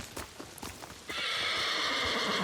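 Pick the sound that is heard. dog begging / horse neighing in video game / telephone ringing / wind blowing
horse neighing in video game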